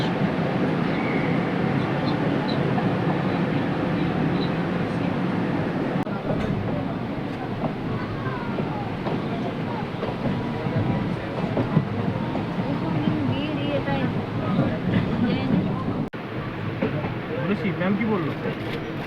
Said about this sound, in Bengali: একদম রাইট টাইমে শিয়ালদা থেকে ট্রেন ছেড়ে দিল।